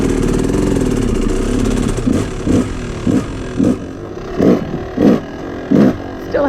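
A Yamaha YZ250 two-stroke engine idles rich and sputters, running a steady low burble before falling into uneven pulsing bursts as it struggles and dips toward dying. It sounds close and fairly loud.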